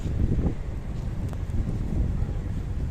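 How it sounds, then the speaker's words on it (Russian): Strong southern wind of a Siberian winter snowstorm, blowing snow on a city street at about minus five, roars steadily with continuous buffeting rumble close to the microphone, no voices. "Ветер южный."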